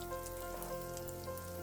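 Raisins fry in a pan for carrot halwa with a soft, steady sizzle and faint crackle, close and quiet, with no other sound.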